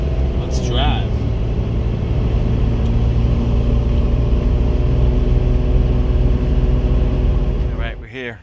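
Steady in-cabin drone of a 2001 Jeep Cherokee XJ under way, a continuous low engine and road rumble that holds loud and even for most of the stretch, with a brief voice near the start and more talk as it eases off at the end.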